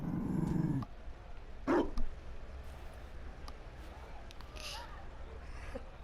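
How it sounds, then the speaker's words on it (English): A Mabari war dog in Dragon Age Inquisition barks in a short burst, followed by a brief, faint whine or growl over quiet game ambience; a voice speaks briefly at the start. "You found a dog."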